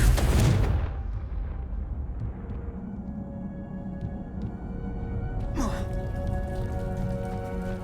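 A loud, booming blast from the Confringo fire spell in the Hogwarts Legacy video game opens the scene, then rumbles and fades into a lingering magical drone with a brief shimmering sweep midway.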